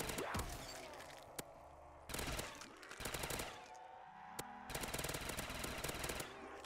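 Rapid automatic gunfire rattles in Black Ops custom zombies, a fast-mag weapon firing in several loud sustained bursts separated by brief gaps, close and dominant.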